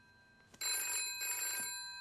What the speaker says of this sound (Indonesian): Tiba-tiba telepon berdering.